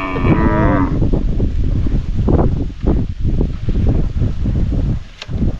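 A carabao or cow on a farm lets out a long, loud, close moo, followed by wind and rustling with further low lowing from the herd.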